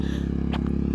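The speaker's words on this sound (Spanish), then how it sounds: "Potente la motoneta, pero" A motor scooter engine runs with a steady, pulsing low drone at close range, steady throughout a brief moment with a short scrape or clatter in the middle.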